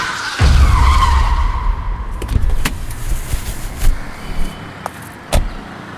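A car pulls up and brakes to a stop with a loud, close rumble and a tyre scrub. The engine then fades, leaving scattered clicks and light knocks like doors and handles.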